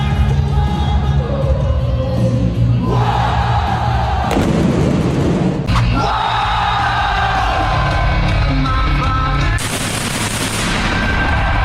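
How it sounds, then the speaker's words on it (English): Concussion pots and simulators at a WWE wrestling entrance fire several loud booming bangs over blaring entrance music and crowd noise, the blasts sudden and punchy against the sustained din. "the bang comes from a rack of concussion pots and simulators"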